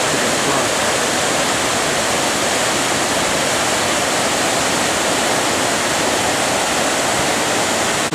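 Floodwater pours across the River Torrens ford at Ivory quarry near Adelaide the day after an October 2016 flood: a loud, constant, full-bodied rushing roar with no breaks and no voices.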